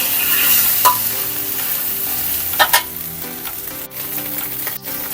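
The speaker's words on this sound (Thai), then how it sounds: "ทอดจนกระทั่งแห้งนะคะ" Beaten egg fries in a pan until dry, sizzling loudly and continuously while a utensil stirs and scrapes against the pan.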